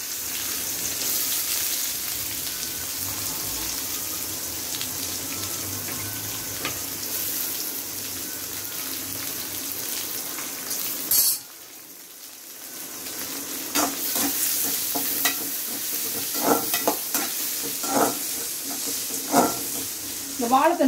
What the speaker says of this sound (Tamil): எண்ணெய் சேர்த்துட்டேன், இப்போ கடுகு உளுந்து சேர்த்துக்கலாம். பொரியட்டும்.